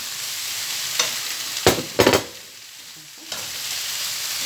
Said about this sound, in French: on mélange pour que l'huile puisse toucher tous les légumes